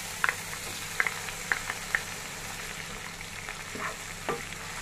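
Tomatoes sizzle in a pan over garlic fried with ground pepper, a steady soft crackle broken by a few sharp clicks and scrapes of a spoon stirring, with no talking.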